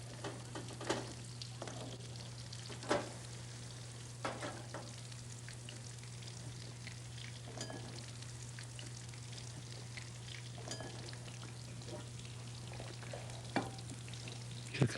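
Chicken for a Spanish dish fries in a pan, a soft steady sizzle broken by scattered crackles and occasional scraping as the pieces are turned, heard alone and fairly faint.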